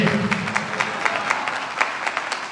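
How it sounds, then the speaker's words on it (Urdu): A church congregation at a Sunday meeting claps loudly, a dense burst of applause with sharp individual claps standing out, steady throughout. "زوردار تالیاں دے نعرے"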